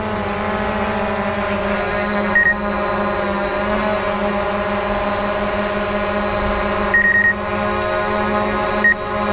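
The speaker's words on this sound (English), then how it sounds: "I'm going to bring the drone towards me and you'll start hearing a beep." Drone obstacle-detection warning giving short, faint beeps three times over the steady whirring hum of its propellers, close by and without voices.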